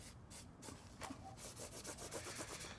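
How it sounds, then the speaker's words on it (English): Cloth rubbed against a plastic Nerf Strongarm blaster to spread leftover metalizer for weathering; close, steady scrubbing strokes in quick repeated passes, alone with no talk. "I'm just rubbing the residual that's on this cloth onto the gun."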